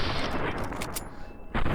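Rapid gunfire from a weapon in Fallout: New Vegas aimed at geckos, a dense, loud burst of shots filling most of the short stretch before a brief lull and another blast.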